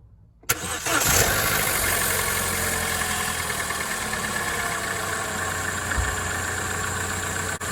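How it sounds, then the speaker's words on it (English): A 2014 Opel Corsa D 1.4 petrol engine, just fitted with a new drive belt and tensioner, cranking briefly and catching, then settling into a steady, even idle heard close up with a faint hum throughout. "So now we can start the engine and see if we did a good job."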